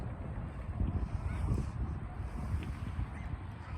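A model boat's motor hums at barely any throttle, a low steady drone on the water with wind buffeting the microphone and no voices.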